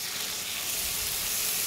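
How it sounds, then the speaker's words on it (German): Oiled beef fillet and lamb loin fillet sear in a very hot pan, giving a steady loud sizzle and hiss of frying close by with no voices. "dann kommt das in der Pfanne rein und das braten wir uns schön an"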